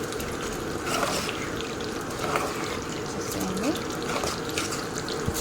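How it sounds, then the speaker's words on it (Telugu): Hot water is poured into a simmering curry, a steady close rushing and splashing pour running continuously for several seconds. "ఇప్పుడు మనము హాట్ వాటర్ వేసుకున్నాము మనకు కర్రీ ఎంత కావాలో అన్ని వాటర్ వేసుకున్నాము"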